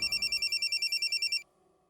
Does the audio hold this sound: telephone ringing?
yes